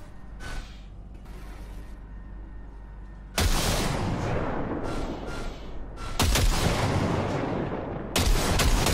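Gunfire at a shooting range in the video game Cyberpunk 2077, with loud sharp blasts starting partway through, each followed by sustained reverberant noise, after a quieter stretch of low mechanical hum and faint clicks.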